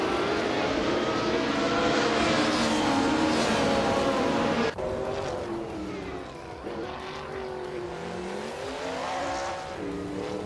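Race cars roar past one another in a racing video game, their engine notes whining and shifting pitch as they overtake, loud and continuous with overlapping motors throughout.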